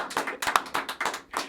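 A small group claps at a live radio broadcast, with several quick, uneven bursts of hand claps close to the microphone, loud and punchy with short gaps between them.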